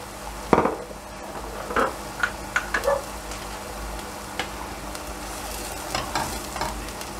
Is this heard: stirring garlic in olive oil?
yes